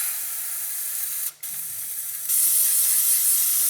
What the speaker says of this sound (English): I sprayed so much that I had to hold my breath and waft all this spray away